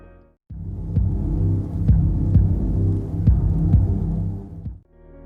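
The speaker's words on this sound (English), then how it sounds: "you can hear a very faint heartbeat coming from Afton every now and then" A faint heartbeat from Afton in a Five Nights at Freddy's game throbs steadily beneath a low, continuous droning hum, its soft regular pulses repeating for several seconds before the sound cuts off.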